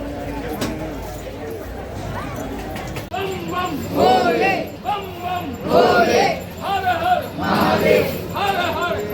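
Dense crowd of pilgrims at Kal Bhairav temple in Ujjain, a steady babble of many voices that swells into louder bursts of shouting and chanting, close and continuous throughout.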